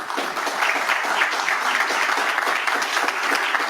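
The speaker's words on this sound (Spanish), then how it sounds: "Un aplauso." Dense, steady applause from a gathered crowd at a government council session, sustained and fairly loud throughout with no break.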